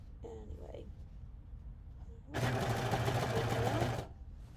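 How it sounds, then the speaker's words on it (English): A home sewing machine runs in one steady burst of about a second and a half, stitching a seam on a little girl's dress made from a man's shirt. It is loud and close, with quieter handling and faint talk before it. "I probably could sew a lot faster, but I'm always checking my seams"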